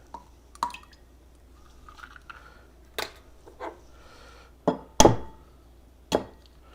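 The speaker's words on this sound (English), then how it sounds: "we're going to start with adding the eggs" Eggs are cracked one by one into milk for brioche dough, giving a few sharp cracks and wet squishy plops with small drips, spaced irregularly over quiet room tone.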